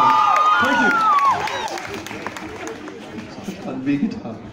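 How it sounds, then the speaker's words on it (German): Rockabilly concert crowd at a club in Leipzig cheering and clapping, loud whoops and shouts at first that fade into scattered applause, with voices talking over it. "Ich scheine einfach Applaus zu bekommen"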